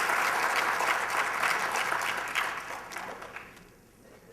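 Audience applause at a ghazal evening marking Sham-e-Ghalib, a dense burst of clapping that holds steady and then thins and fades toward the end.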